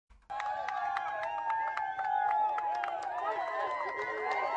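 Loud, dense crowd noise with shouting and cheering voices as a man pushes through a crowd past ICE agents and federal troops, sustained and close throughout after a brief quiet start.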